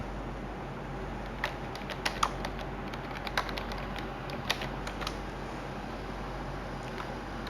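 Keys on a computer keyboard are tapped in sparse, quiet clicks with a few sharper presses, over a low steady room hum.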